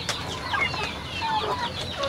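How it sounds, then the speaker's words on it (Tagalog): Dominant CZ chickens clucking nearby, several short overlapping clucks and chirpy calls from the flock over a quiet background, with no talk. "Anong strain ng mga manok to?"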